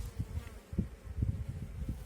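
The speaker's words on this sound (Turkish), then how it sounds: "Duman sıkmama rağmen arı sakin." Low droning buzz of honeybees at a hive after smoking, pulsing in and out in short swells.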